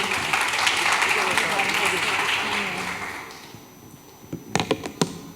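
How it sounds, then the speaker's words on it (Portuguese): A church congregation applauds, a dense patter of many hands that fades out, followed by a few sharp isolated claps and thumps near the end. "você aplauda Jesus pela vida dela."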